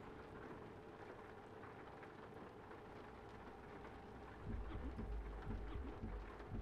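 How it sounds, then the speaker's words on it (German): Rain falls in a steady, faint patter that thickens partway through into a heavier, rumbling downpour with low, dense noise. "Na, Regen kann auch mal aufhören"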